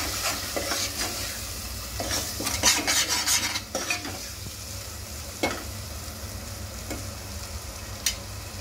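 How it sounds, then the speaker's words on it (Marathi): Masala for a Makar Sankranti bhogi vegetable curry frying in a pan, a steady close sizzle punctuated by repeated scraping stirs of a spoon against the pan, with no talking. "इथे आपला मसाला छान परततोय,"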